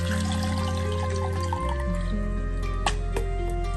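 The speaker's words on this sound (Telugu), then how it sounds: "ఇదిగోనండి చింతపండు వాటర్ కూడా వేసేసుకుందాము" Tamarind water poured into a cooking pot while making mint rasam, a short steady liquid pour with drips and a low rumble from the stove underneath.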